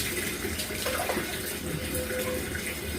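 Running water pours steadily onto dogs during a bath, a continuous close splashing wash with no talk over it.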